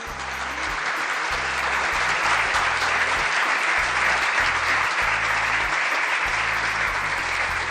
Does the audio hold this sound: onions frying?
no